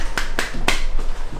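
Sharp hand claps ring out in a bathroom to trigger clap-activated lights, three or four crisp isolated claps in quick succession, close and loud with no voices.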